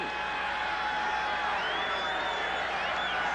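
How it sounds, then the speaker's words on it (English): Stadium crowd at a 1988 Tampa Bay Buccaneers at Green Bay Packers football game, a steady distant roar of cheering and noise filling the background. "Crowd really into it"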